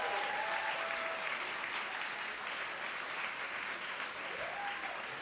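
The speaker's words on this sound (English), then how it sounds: "Let's give them a big round of applause." A fundraising event audience applauding lead gift donors, dense steady clapping from a large crowd that holds at an even level throughout without any speech.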